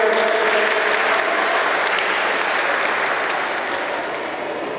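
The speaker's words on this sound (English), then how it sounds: "let us have a round of applause for these people also" Sustained audience applause fills a room at an inter-house school trivia competition, a dense steady clatter of many hands clapping that fades slightly toward the end, with no talk over it.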